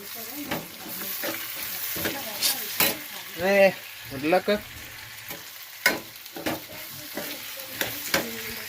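Potato curry tossed in a pan with chili powder, a continuous soft sizzle punctuated by several spoon scrapes and clanks against the pan, while a person talks intermittently over it.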